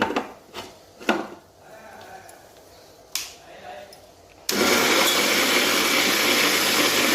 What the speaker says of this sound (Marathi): आता याला मी छोट्या पॉटमध्ये बारीक करते